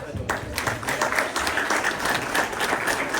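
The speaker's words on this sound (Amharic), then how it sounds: "በደንብ አድርጋቸው አጨብጭቡላቸው።" An audience claps for children after their chanted performance at a traditional church school event, a lively mass of overlapping hand claps with irregular sharper peaks, fairly close and continuous.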